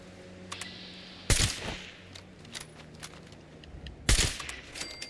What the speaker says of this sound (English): Why are these shots not registering?